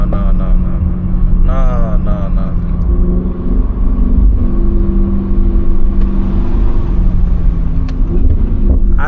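An Audi RS6 C7 accelerates with a steady, heavy exhaust drone and rumble filling the background, with a person talking over it throughout.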